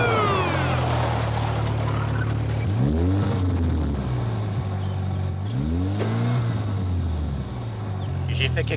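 A car engine runs steadily close by, revving up and down in pitch a couple of times, with voices talking over it.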